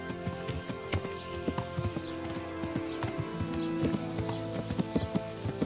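Steady horse hooves clip-clop in an even rhythm over a soft musical backdrop, close and moderately loud, in the video game Kingdom Come: Deliverance.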